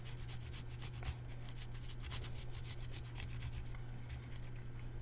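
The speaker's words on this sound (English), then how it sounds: "I use a little handheld grater and I grate everything up." Garlic is rubbed back and forth on a small handheld grater in a kitchen, giving a quick series of close, scratchy rasping strokes over a steady background hum.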